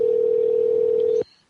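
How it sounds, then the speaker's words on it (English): Telephone tone on a call line: a single steady, loud electronic tone held for over a second, then cut off abruptly into near silence, with no talking over it. "And that is the phone ringing."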